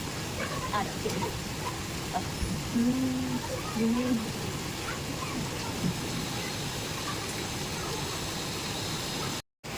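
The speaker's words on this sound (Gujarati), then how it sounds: "અહીંયા જો કેટલો સરસ વરસાદ ને વાતાવરણ એટલું સરસ થઈ ગયું છે" Heavy rain falls steadily in an early-morning outdoor setting, a dense, continuous wash of noise throughout, with a faint voice rising briefly near the middle before the sound cuts out for a moment near the end.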